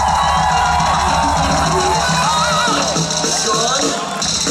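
Concert crowd at the Aftershock 2013 festival in Sacramento, cheering, yelling and whooping loudly in a sustained, steady roar.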